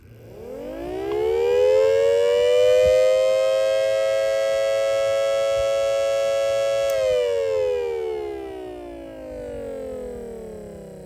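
A civil defense siren winds up, holds a loud, steady wailing tone for several seconds, then winds down as the pitch slowly drops, with no voices over it.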